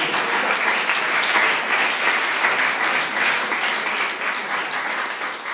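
A church congregation applauds during a sermon, with loud, dense clapping that holds steady for the whole stretch and no voice over it.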